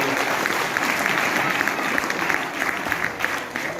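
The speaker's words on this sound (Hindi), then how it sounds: "एक बार ताली बजा दो भाई साहब" Sustained applause from a seminar audience in Meerut fills the room, a dense, steady patter of many hands clapping at close range, with a voice faintly present underneath.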